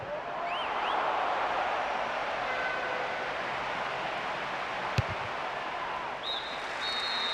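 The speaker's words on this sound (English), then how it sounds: "The half-time whistle goes" In the football video game PES 2010, a referee's half-time whistle sounds near the end as a short, clear, high tone, followed by a second blast, over a steady bed of stadium crowd noise.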